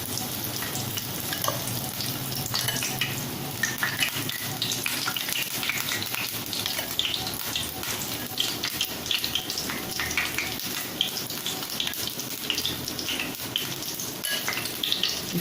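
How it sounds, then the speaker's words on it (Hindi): Breaded soya chaap pieces frying in oil over a medium flame, giving a steady, close crackling sizzle with bursts of bubbling throughout and no talk. "बहुत मीडियम आंच पर हम इसको तलेंगे"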